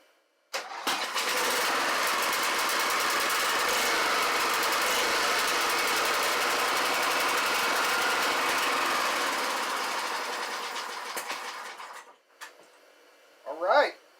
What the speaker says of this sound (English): it's definitely going to take some tuning, and but it's running off its own carburetor